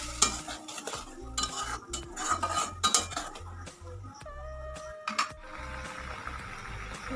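Pineapple paste for chutney is stirred in a kadai, a spoon scraping and clinking against the metal in quick repeated strokes over a light sizzle, loud and close.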